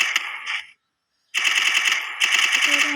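Automatic gunfire in the Free Fire video game, with loud rapid bursts of shots, a brief silent gap, then two more sustained bursts close and dominant.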